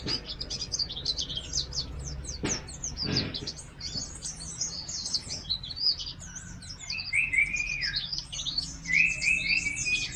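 A pleci, a white-eye songbird, chirps close by in a quick run of high, thin tweets and trills, with a few brief rustles early on and no talking.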